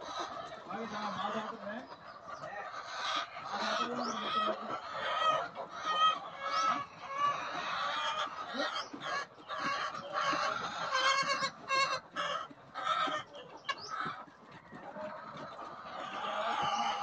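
White egg-laying hens cluck and squawk throughout a farm shed, a dense continuous flock chorus with some nearby calls standing out over steady background noise.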